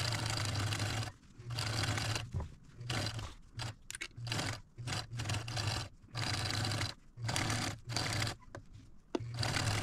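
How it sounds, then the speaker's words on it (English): A sewing machine stitches close to the edge of fabric for a little girl's Christmas dress, a near, whirring motor buzz running in repeated bursts separated by short pauses and handling noises. "going to sew it in pretty close to the edge."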